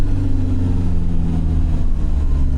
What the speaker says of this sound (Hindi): और वो डीजल इंजन की आप इंडक्शन वगैरह की आवाज़ें भी इसमें सुन सकते हो